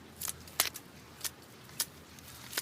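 Scissors trim old Heuchera leaves, five short crisp snips at uneven intervals, close and fairly quiet against a low background.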